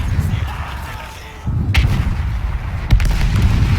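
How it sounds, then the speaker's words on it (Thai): Two heavy booming blasts of artillery cannon fire in Battlefield 1, the first around midway and a second a bit later, over a dense low rumble of battle noise. "โอ้ป้อมปืนใหญ่"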